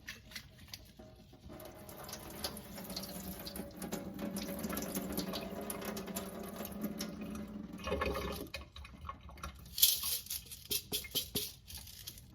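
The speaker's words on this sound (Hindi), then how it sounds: "दो तीन दफ़ा पानी से सही तरह वॉश करेंगे।" Green mung beans are rinsed under running water in a sink, a steady patter and splash that builds and fades, with sharper sloshing bursts toward the end and no talk.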